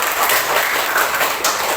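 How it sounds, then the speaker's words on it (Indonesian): Classroom applause as students clap together, a steady dense patter of many hands filling the room at close range with no talk over it. "Kasih tepuk tangan semuanya."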